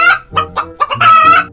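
A chicken clucks loudly and close, a quick series of short, sharp clucks ending in a longer drawn-out squawk.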